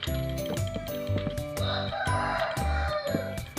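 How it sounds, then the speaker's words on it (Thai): Chickens clucking in the video game Minecraft, quick repeated clucks in a steady rhythm, fairly close and loud, over a busy background. "ตรงนี้เป็นไก่นะครับตรงนี้เป็นไก่"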